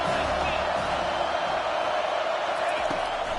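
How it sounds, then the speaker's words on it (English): A stadium crowd in the NCAA 25 college football video game, Notre Dame against Texas A&M, roars in a steady, swelling wash of cheering that fills the whole stretch without pause. "This crowd rising up, sensing that its defense needs some help."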